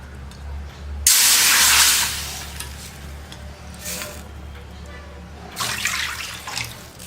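Water hissing and bubbling in a hot pan as it heats toward a boil for rava kesari, with a loud surge of steam, a quieter stretch, then another burst.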